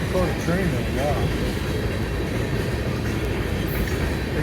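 A Conrail train rumbles past close by in a loud, steady roar with rattling clatter, with voices briefly audible near the start.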